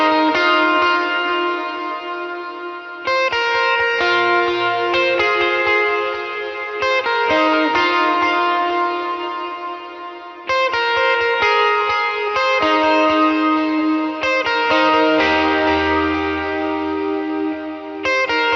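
Guitar part played straight through with its full effects chain: ringing, sustained chords swell and change every few seconds, thick with distortion, chorus, echo and reverb, loud and unaccompanied by speech.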